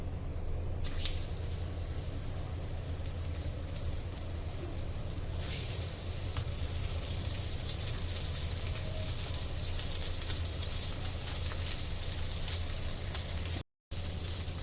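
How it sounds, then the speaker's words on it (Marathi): Semolina-coated mackerel fried Agri style in hot oil on a griddle, giving a steady, loud, broadband crackling sizzle that runs without pause, with no talk over it and a brief dropout near the end. "तेल मस्त तापलेलं आहे आता हे बांगडे आपण त्यामध्ये घालू"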